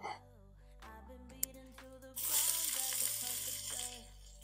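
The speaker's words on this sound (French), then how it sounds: "maintenant, je vais faire revenir mes oignons dans un premier temps" Onions sauté in a pan as the first step of a home-cooked dish. Music plays throughout, and midway a bright sizzle bursts in and carries on beneath it before fading.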